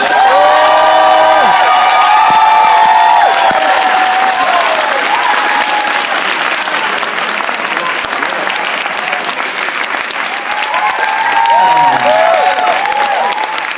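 Loud audience applause and cheering welcoming a bassist at a London event, dense clapping with whoops and high shouts throughout, with musical tones ringing underneath at the start.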